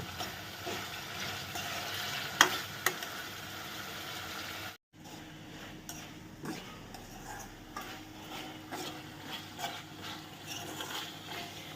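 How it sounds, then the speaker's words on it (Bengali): Chicken curry frying over a medium flame, a low steady sizzle with occasional spoon scrapes and clinks against the pot, close and fairly quiet, broken by a brief pause midway. "এই যে এই যে অবস্থায় রয়েছে মাংসটা আর একটু ফ্রাই হবে"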